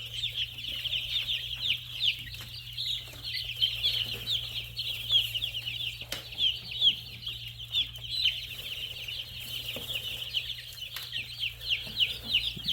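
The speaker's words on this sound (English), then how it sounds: "happy chickens" Many meat chickens cluck and chirp steadily together indoors in a brooder, a continuous busy chatter with a low steady hum underneath.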